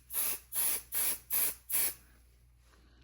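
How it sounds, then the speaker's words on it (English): Basting spray misted onto fabric over a protective mat for a quilted pot holder, five short even hissing bursts in quick rhythm, close and clear, then quiet. "And just do you a light spray."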